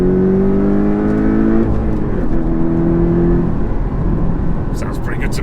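Porsche 718 Cayman T with sports exhaust accelerating through the gears of its manual gearbox, the engine note rising in steady sweeps, with a faint brief voice near the end.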